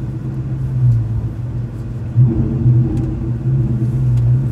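A car engine idles and rumbles while pulling out of a gas station parking lot on an afternoon, low steady hum with brief revs and swells in loudness, close and continuous with no talking.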